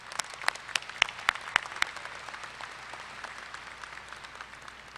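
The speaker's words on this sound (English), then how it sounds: "let's give her a round of applause." At the Texas A&M-Corpus Christi 2017 spring commencement, a large audience applauds an honored professor: moderately distant, steady clapping with a cluster of sharp, close claps early on, gradually thinning and fading.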